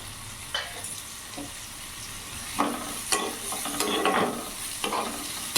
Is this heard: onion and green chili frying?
yes